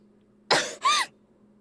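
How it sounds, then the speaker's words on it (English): A female character in the Ever17 visual novel remake gives two quick, sharp coughs, close and clear against a quiet background hum. "Suddenly, you coughs."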